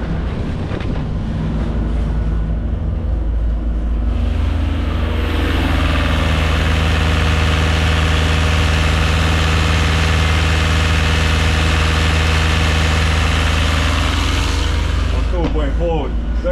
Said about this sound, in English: Smooth, very quiet engine, no vibration coming.